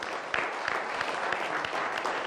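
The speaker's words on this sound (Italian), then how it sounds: "Facciamo un applauso." Steady audience applause at a live Italian television show, a dense wash of clapping filling the whole stretch with a few sharper individual claps standing out, no voices.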